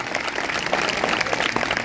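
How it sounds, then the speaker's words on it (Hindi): A church congregation applauding at a Sunday service, a steady wash of many hands clapping together, dense and sustained throughout. "अगर करते हैं तो जोरदार तालियां बजाएंगे।"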